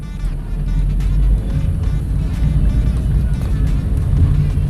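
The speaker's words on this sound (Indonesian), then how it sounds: "Gue coba bejek di gigi 2" A Toyota Soluna sedan's engine is pushed hard in second gear, a loud, steady low-pitched drone with road and wind rumble building across several seconds, heard from inside the car with no talk.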